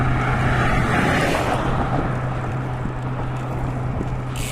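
Headwind buffets the microphone during a long road bicycle ride, a loud continuous rushing roar that eases slightly partway through and carries no talk.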